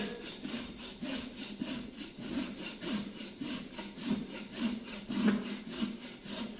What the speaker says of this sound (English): Now I'm going to rasp here, back this up a little bit.